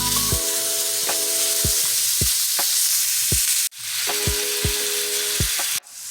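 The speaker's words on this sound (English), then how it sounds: "we're going to cook our ground beef until it's all brown" Ground beef browning in a hot pan gives a steady, loud sizzle and fry close up, with several clanks from a spoon against the pan and no voices.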